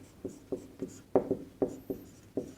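Chalk or marker strokes on a board during a maths lecture on shares and dividends, a steady series of short scratchy taps and rubs about every half second, close and clear with no talk over them.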